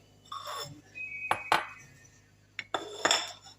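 Metal spoon and bowl clinking in a home kitchen while masala is mixed for stuffed eggplant, several sharp, bright clinks with quiet gaps between them, close and clear.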